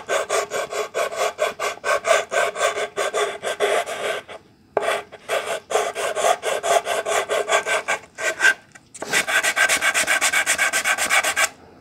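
Sandpaper wrapped around a small wood block rubs back and forth along the edges of a Stratocaster guitar body, a close, loud rhythmic rasping in steady strokes with a few short pauses.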